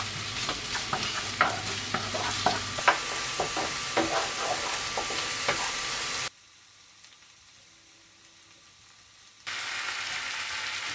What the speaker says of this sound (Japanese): 続いて玉ねぎを加えて透明になるまで炒めます。